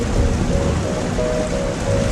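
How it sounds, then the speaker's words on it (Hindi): A heavy-rain sound effect plays on stage during an awards-show comedy performance, a steady, loud hiss of downpour with faint tonal hum beneath it. "तेज बारिश हो रही है"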